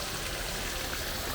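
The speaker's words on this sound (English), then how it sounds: "Nice little waterfall." A small waterfall on a property in the Philippines pours in a steady, even rush of water, soft and continuous throughout with no talking over it.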